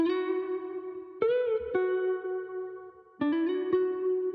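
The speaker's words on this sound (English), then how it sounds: "so I just pitched it down 300 semitones and sped it up a little bit," Melodic Splice phrase sample for a trap beat, pitched down and sped up, heard as a processed synth-like line of sustained notes with a handful of abrupt note changes and bends, clean and unaccompanied.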